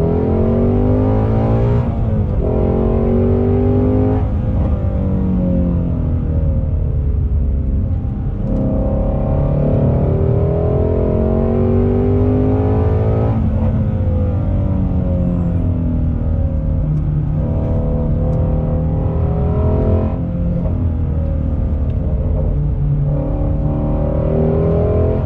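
A 2020 Ford Shelby GT350R Mustang Heritage Edition engine pulls hard on throttle, loud and close, with rising then falling harmonic engine tones that climb through the revs and reset at shift points across the whole run.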